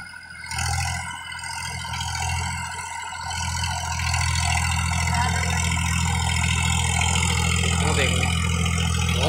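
A Swaraj 744 FE tractor, roughly a 2015 model in clean condition, idles with a steady, loud low engine drone that runs unbroken throughout, with someone talking over it.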